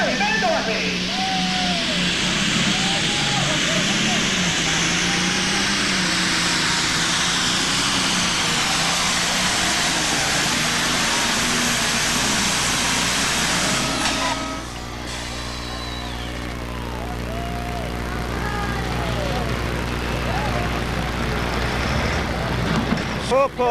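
The Screaming Demon 2 pulling tractor roars loudly and continuously at a 1994 NTPA tractor pull in Imlay City, Michigan, easing off partway through while an announcer talks over it.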